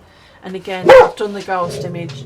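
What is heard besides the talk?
dog barking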